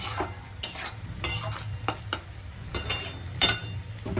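Green and dried chillies fry with goat trotters in a pan, giving a steady low sizzle broken by repeated scraping stirs and clinks of a utensil, with no talking.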